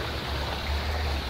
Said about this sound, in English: No, the water is damaging the truck.